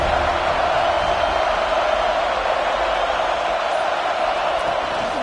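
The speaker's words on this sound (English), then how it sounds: "This crowd ready to make its presence known." A football stadium crowd cheers in a dense, sustained roar at an even loudness throughout, with no single voice standing out.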